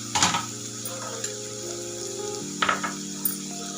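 Green chillies frying in oil in a pan give a soft, low sizzle with a few short clinks and stirring scrapes, faint and close, with no talking.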